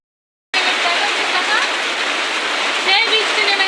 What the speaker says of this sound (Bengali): সেই বৃষ্টি নেমেছে দেখো